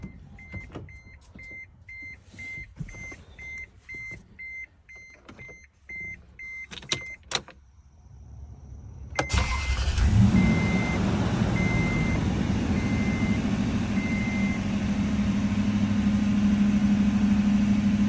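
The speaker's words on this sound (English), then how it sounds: "Let's start her up, let it run for a few moments, shut it down" A 2005 Toyota Tundra pickup with its catalytic converter warning on: a few dash chimes and door-ajar beeps, then the engine cranks and catches at about nine seconds and settles into a steady, loud idle that runs to the end.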